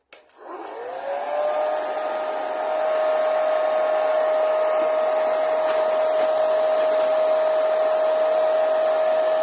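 A hair dryer blows steadily to dry a light coat of acrylic paint or gesso on a mixed media notebook, a loud continuous whine with a rising pitch at start-up that then holds even and close for the whole stretch.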